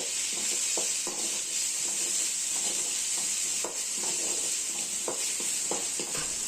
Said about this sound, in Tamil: எண்ணெயில் 1 நிமிஷம் வரைக்கும் இதை வதக்கி விட்டுனே இருக்கணும்